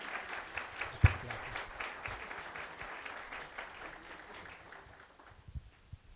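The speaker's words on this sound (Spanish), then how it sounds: "Les pido un aplauso para él, por favor." Moderate audience applause at a university library inauguration greets an introduced guest, a steady patter of clapping with one sharp close clap early, fading toward the end.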